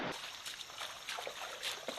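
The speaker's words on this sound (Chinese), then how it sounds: "很明显的看到这个小溪涨水了" Trickling water of a rainforest stream swollen after heavy rain, a soft continuous babble with small splashy bursts, close by and fairly quiet, no voices.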